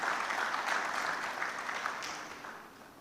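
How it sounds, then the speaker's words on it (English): Applause from a tea convention audience for the organising committee, a broad crowd of clapping hands that holds steady and then gradually fades toward the end. "A big round of applause for the entire tea convention committee."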